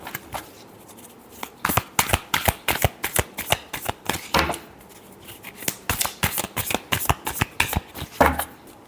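A deck of tarot cards is shuffled by hand in quick bursts of crisp riffling and slapping, with short pauses between rounds, close and clear.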